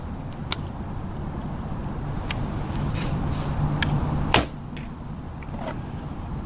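Omega Royal Huntsman longbow releasing an arrow at a 30-yard target outdoors, heard as one short, muted thud partway through, low against constant outdoor background noise.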